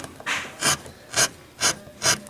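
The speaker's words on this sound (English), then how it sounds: "I mean, I can go real quick and blast out big areas" A V gouge cuts quickly through a printmaking block, producing five close, rasping scrape strokes in a regular rhythm, with no talking.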